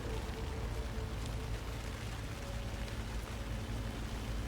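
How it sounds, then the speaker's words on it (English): Steady rain falls in the video game Alan Wake 2, a dense, even hiss of drops with no pauses, fairly quiet throughout. "I love that rain sound."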